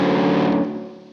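A 1964 Gibson Custom Trini Lopez electric guitar with the tone rolled down, playing a single thick, chewy distorted chord that rings briefly and then fades.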